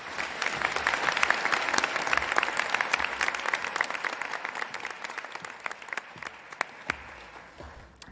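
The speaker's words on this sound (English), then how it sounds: "Please join me in giving a round of applause for the two alumni award winners." A graduation audience at a university school of nursing applauds two alumni award winners: dense, steady clapping from a large crowd that swells early, then gradually thins and tapers toward the end, with no talk over it.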